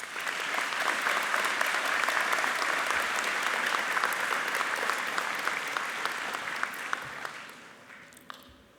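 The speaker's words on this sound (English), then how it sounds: "let's give ourselves and those sitting next to you a round of applause" Sustained applause from a large graduation ceremony audience, a dense, even wash of clapping that holds steady for several seconds, then thins and fades toward the end with a few last isolated claps.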